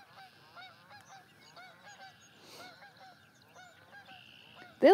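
Canada geese honk repeatedly from a distance near a pond on a spring property, a steady series of calls with no talk, ending in a sudden loud burst close by.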